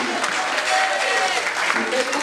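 Church congregation applauding, a dense, continuous wash of clapping at moderate loudness with voices mixed in throughout.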